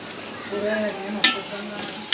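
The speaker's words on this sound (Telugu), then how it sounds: "ఉల్లిపాయలు పచ్చిమిర్చి ఇలా వేపుతున్నాం" Onions and green chilies fry in a pan for a Telugu fish pulusu, a soft steady sizzle with a few sharp stirring scrapes and clinks, close and fairly quiet.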